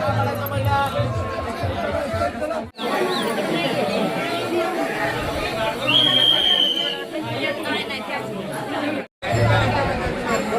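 Dense crowd chatter fills a busy hilltop temple trail on the rainy Jejuri to Kadepathar climb, a steady babble of many voices close by with brief dropouts, plus one high whistle-like tone partway through.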